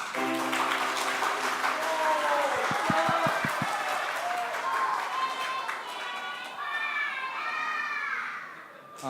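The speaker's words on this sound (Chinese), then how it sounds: "拍手拍手。" A church congregation claps and cheers with children's shouts mixed in, lively and sustained, while voices call out over the clapping.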